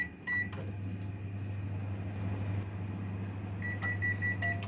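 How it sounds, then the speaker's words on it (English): A microwave oven heats a rice package with a steady low hum, framed by electronic beeps at the start and a rapid series of beeps near the end, close and clear with no talk. "We're going to microwave a little bit of rice."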